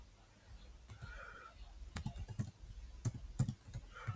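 Soft, close keystrokes of a password being typed on a computer keyboard, a few irregular clicks spread over a few seconds in a quiet room, with faint background hum.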